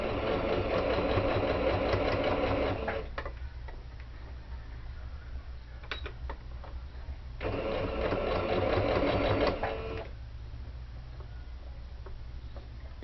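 A domestic sewing machine runs a straight stitch along the edge of fabric for a car trash bag, with two steady bursts of rapid mechanical whirring and ticking separated by a quiet pause.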